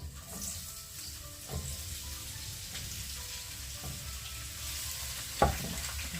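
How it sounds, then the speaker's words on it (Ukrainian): Onion dropped into well-heated oil gives a steady close sizzle that crackles on, with a few light clunks and one sharp knock near the end. "Закидаємо цибулю тільки тоді, коли гарно розігрілася олія, щоб цибулька аж кварчала."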